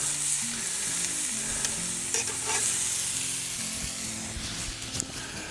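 Onions cooking down over a campfire in freezing winter conditions, a continuous close sizzle and hiss with some stirring, and no talk.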